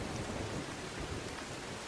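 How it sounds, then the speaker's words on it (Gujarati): Heavy monsoon downpour over the Savarkundla area of Gujarat, a dense, steady roar of rain with a low rumble that may be thunder, continuous and fairly distant throughout, with no voices. "સાવરકુંડલા પંથકમાં અનરાધાર વરસાદ પડ્યો છે"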